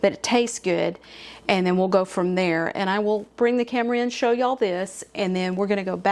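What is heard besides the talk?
No distinct noise like a dog, phone or traffic.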